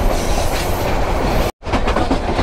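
The Upakul Express rushes along the rails between Dhaka and Noakhali in a loud, steady roar of rolling wheels and rattling carriages, with a brief drop-out before the clatter resumes.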